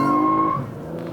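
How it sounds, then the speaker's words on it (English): A 2019 Lexus ES 350 F-Sport, front-wheel drive, spins its front tires on hard acceleration, giving a loud tonal squeal that holds for about half a second and then fades into a rumbling engine note. "That wheel spin was intense."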